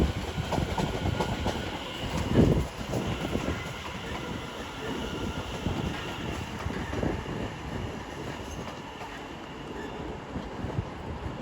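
A London Overground Class 710 electric train runs into London Euston station, a continuous rumbling roll with clickety-clack over the rails and a brief louder burst early on, heard moderately close.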